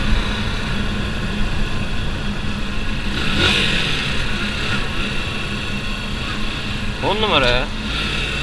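A Yamaha YBR 125 motorcycle from 2013 runs steadily in third gear, its engine a constant near drone throughout with a brief rise in pitch near the end, while someone talks over it.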